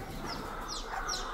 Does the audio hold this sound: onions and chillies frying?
no